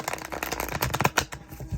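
A deck of tarot cards is riffled and shuffled by hand in a quick, continuous run of crisp flutters and light slaps, close and clear, with no talking over it.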